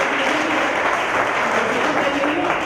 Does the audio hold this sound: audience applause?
yes